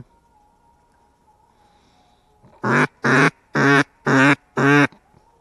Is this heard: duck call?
yes